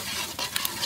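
Egg being stirred in sesame oil in a village cooking pan, a soft sizzle with quick scraping stirs and a couple of light utensil clicks, faint and brief.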